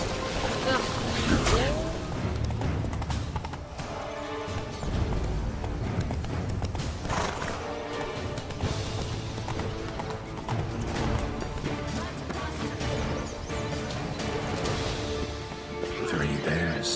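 Horses gallop in The Witcher 3: Blood and Wine, with a continuous loud clip-clop of hooves throughout and a short whinny near the start, under a bed of ambient game sound.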